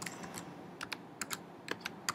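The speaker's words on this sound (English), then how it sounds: "Sorry for that typing noise." Light clicks from typing on a computer keyboard come in short bursts of a few quick keystrokes with pauses between, close by and fairly quiet.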